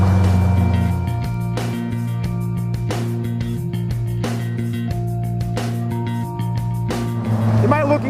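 Engine of a 2015 Polaris Slingshot through a downshift to second and back up to third, its steady drone broken by rhythmic shift pulses, while a voice talks over it.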